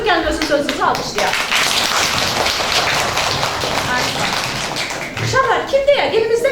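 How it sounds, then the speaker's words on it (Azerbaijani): A class of schoolchildren claps together during an open lesson, a burst of mixed clapping rising and lingering under voices, with a teacher talking at the start and end. "Gəlin özünüzü alqışlayaq"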